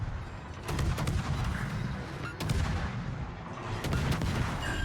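Destroyer Cassard's Marceau naval guns fire in World of Warships, sending loud booming salvos with a rumbling tail, three or four heavy volleys in quick succession and no voice over them.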